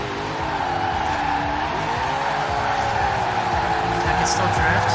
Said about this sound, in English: I'll show you me drifting with this car.